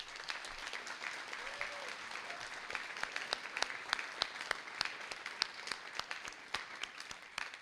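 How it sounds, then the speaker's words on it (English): A large graduation audience at a university honors college ceremony applauds in a soft, distant wash of clapping, with sharper individual claps rising toward the end. "So students, I invite you and to give a round of applause to these people and applaud yourself."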